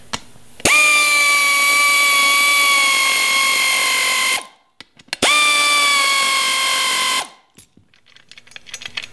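A power tool whines in two long, steady bursts while tightening a longer bolt on a beadlock wheel, each run stopping abruptly, followed by faint clicks and handling noise.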